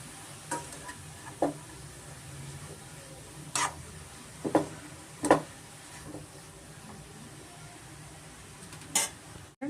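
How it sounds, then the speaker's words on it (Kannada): Carrots frying in ghee for carrot halwa while being stirred: a soft, continuous sizzle broken by scattered scrapes and clinks of a spoon against the pan, close up. "ಒಂದು ಎರಡು ನಿಮಿಷ ನಾನು ತುಪ್ಪದಲ್ಲಿ ಚೆನ್ನಾಗಿ ಫ್ರೈ ಮಾಡ್ಕೊಂಡಿದ್ದೀನಿ ಕ್ಯಾರೆಟು"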